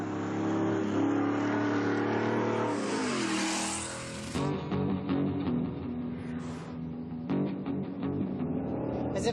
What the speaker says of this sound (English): every single second you're driving in the Raptor, it sounds like 40 Harley-Davidsons are trying to overtake you from the back